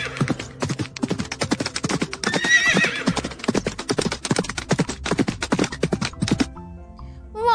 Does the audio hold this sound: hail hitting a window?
no